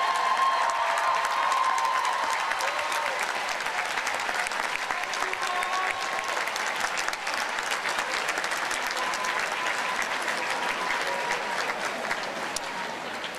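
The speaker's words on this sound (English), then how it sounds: "rise and receive a round of applause from the graduates" Graduates applaud families and friends at the Emmanuel College 2014 commencement ceremony, a steady, dense wash of clapping from a large crowd that holds evenly for the full stretch.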